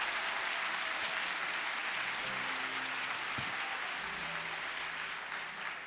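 A church congregation applauds at an evening service, steady dense clapping from a crowd at moderate distance that holds evenly and eases slightly toward the end, with no voices over it.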